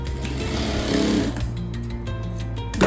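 Electric sewing machine stitching a blouse, running close and steady in a fast, even whirring rhythm, with small clicks and a brief pause near the end.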